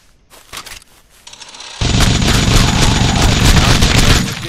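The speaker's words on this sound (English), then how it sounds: "Like the Gatling gun." A Gatling gun fires in a video game, a loud continuous burst of rapid shots after a few scattered clicks and thumps at the start.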